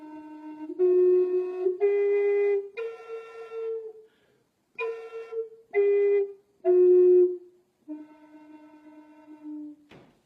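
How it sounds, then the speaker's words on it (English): A Native American yucca flute plays half a scale as a series of separate sustained tones, each held about a second with short gaps between them, clear and close with no speech. "I would get a half of a scale that would sound something like this."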